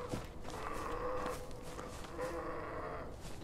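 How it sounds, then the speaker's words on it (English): A creature call in a video game, thought to be a skinwalker, gives a faint, distant drawn-out moaning cry, twice, close to a cow's moo, under a noisy background. "That sounds like a damn skinwalker right there"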